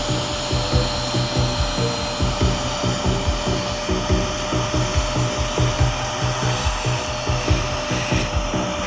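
A VEVOR wet/dry shop vacuum runs steadily, a loud, close motor drone with rhythmic bumps as it sucks up fine dirt, with no talk over it.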